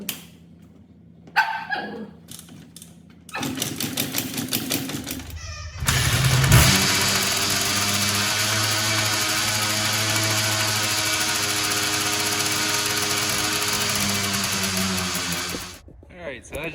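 A 1990 Suzuki LT250R quad racer with a sticky throttle fires up after a few cranking bursts and runs roughly at a loud, steady idle for about ten seconds, then cuts off.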